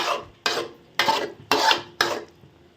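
Chicken curry is stirred in a pot with five slow, separate scraping strokes, each a loud, gritty sweep that fades before the next, close by, with no talking.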